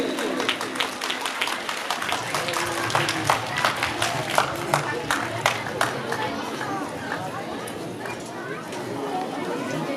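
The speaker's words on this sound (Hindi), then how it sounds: "भरपूर तालियां" Clapping for prize-winning schoolchildren receiving awards at a school ceremony, scattered distinct claps over crowd chatter and an announcer's voice, fairly distant.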